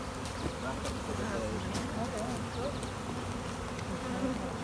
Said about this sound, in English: This looks like a busy hive.